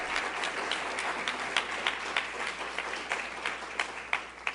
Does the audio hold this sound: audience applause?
yes